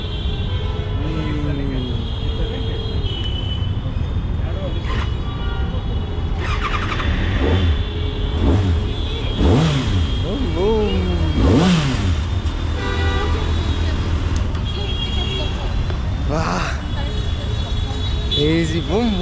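A Kawasaki motorcycle at a Bangalore street roadside runs with a steady engine drone and rises in pitch through several revs, while people talk and shout over it and traffic and horns sound in the background.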